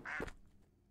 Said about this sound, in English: our starving duck here, or not duck, our goose